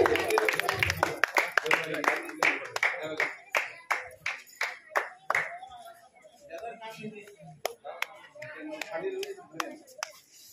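Audience clapping to welcome a poet on stage at a Kosli poetry gathering, starting as dense applause that thins into scattered individual claps, with a voice talking faintly over it.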